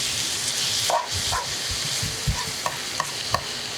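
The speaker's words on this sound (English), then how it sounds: "I'm going to now add my garlic." Garlic frying in a hot pan with zucchini noodles that have cooked about five minutes, a steady close sizzle broken by a few soft stirring scrapes and light clicks of a utensil against the pan.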